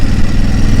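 Close, loud motorcycle engine running on a ride on a new bike, a brief continuous throbbing rumble with no voices.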